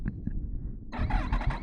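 Yamaha MT-10 motorcycle engine catches after a few quiet, faint handling noises, then breaks into a loud, close, steady rumbling roar as the bike pulls away.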